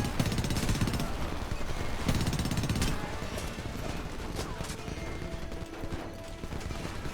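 Rapid machine gun fire rattles in Homefront, loud sustained bursts of automatic shots with heavy impacts early on, continuing as dense staccato fire throughout amid battle noise.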